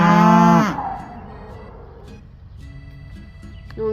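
A cow lets out one loud, close, drawn-out moo at the start, then soft scattered farmyard sounds continue as the herd heads out to pasture.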